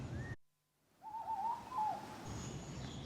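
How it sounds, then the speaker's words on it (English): Faint owl call carries from woodland at dusk, a soft wavering hoot heard at a distance over quiet outdoor ambience. "Owl calling over there in the woods."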